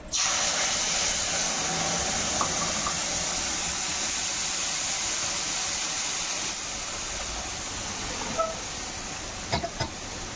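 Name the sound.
spice paste of chilli, cumin, coriander, onion, garlic sizzling in pan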